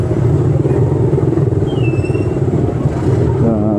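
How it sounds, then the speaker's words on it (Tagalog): Heavy road traffic on C5 with cars and motorcycles, a dense continuous engine rumble close by, with steady low drone and passing motor noise throughout. "Grabe traffic."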